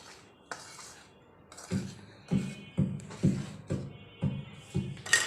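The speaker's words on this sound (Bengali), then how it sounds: "চামচটা দিয়ে মিশিয়ে নেব।" A spoon knocks and scrapes inside a bowl while flour, sugar and salt are mixed, a series of about eight rhythmic clinks and taps, close and fairly quiet.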